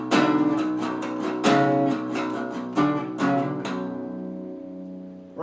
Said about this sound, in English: Okay, so we're going to start off in the main riff